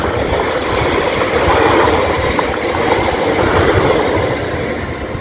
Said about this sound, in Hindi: ट्रेन भी आ गई।